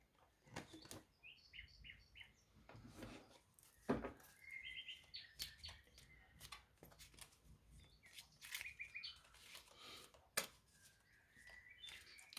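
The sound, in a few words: birds singing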